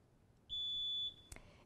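Quiz-show buzzer at a high school quiz contest sounds once, a clean electronic tone held for about half a second, followed by a short sharp click in an otherwise quiet room.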